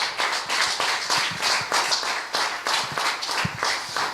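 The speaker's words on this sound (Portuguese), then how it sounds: "Você pode dar uma salva de palmas ao Senhor?" Congregation clapping in a church service, a steady run of hand claps with a rhythmic, almost in-time pulse at moderate distance, filling the space without speech over it.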